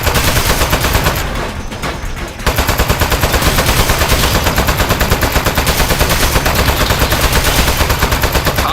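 Rapid automatic turret gunfire in a video game, a loud, dense stream of shots that dips briefly near the start, then hammers on steadily to the end.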